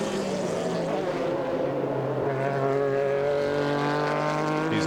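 Porsche 911 GT-class race cars at speed during the 12-hour endurance race at Sebring, a loud sustained engine drone with steady rising and falling harmonic tones of several cars, continuous over the whole stretch with no talk.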